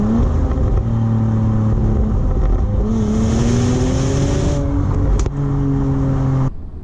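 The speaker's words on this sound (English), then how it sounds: "This sport drive mode that gives you the pops and bangs now with the Akrapovic tuned exhaust" Bentley Bentayga Speed with an Akrapovic tuned exhaust in sport drive mode, a loud, steady engine drone rising in pitch as it revs, with a sharp exhaust pop near the end before the sound drops away.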